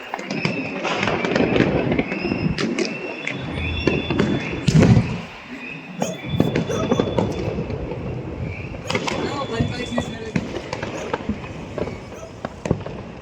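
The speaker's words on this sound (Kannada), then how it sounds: "ದೀಪಾವಳಿಗೆ ಈ ರಂಜಿ ಪಟಾಕಿ ಹೊಡೆದಿರಲ್ಲ" Firecrackers crackle and pop in dense, rapid bursts with sharp bangs throughout, voices mixed in beneath the steady barrage, celebrating an RCB win in Bengaluru.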